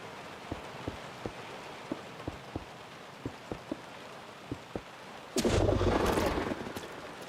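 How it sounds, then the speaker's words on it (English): Slanted particle rain in a PC video game, a soft steady hiss with faint periodic ticks, then a louder rushing burst of rain noise near the end. "I have particle rain, where the rain is going to come in from an angle"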